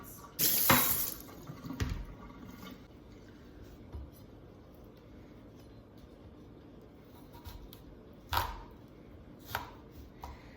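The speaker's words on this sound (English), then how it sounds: "I'm just gonna cut it so it's not rolling around" A knife chops through squash on a cutting board during home meal prep, with a handful of sharp, sparse cuts spaced a few seconds apart in a quiet kitchen.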